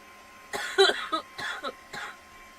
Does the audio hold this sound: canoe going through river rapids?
no